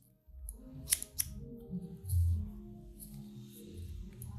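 Scissors snipping straightened hair up close, with a few crisp metallic clicks in irregular rhythm over faint, low handling noise, quiet overall.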